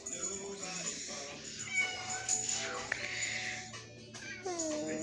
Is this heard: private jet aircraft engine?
no